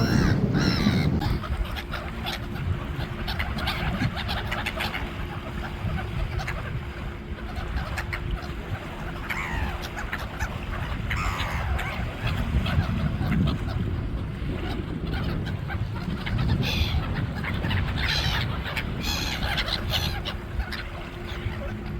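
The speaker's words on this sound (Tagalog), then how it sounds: "nagpapakain ng mga seagull, bird, and dove dito sa Baypay Dagat" Seagulls, doves and other birds calling and squawking while being fed on a beach by the sea, mixed with steady wind or surf rumble and a few faint voices in the background.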